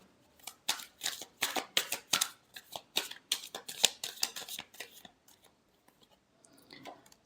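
A deck of tarot cards shuffled close up in a quick run of crisp riffling flutters and slaps, then a brief pause with faint handling at the end.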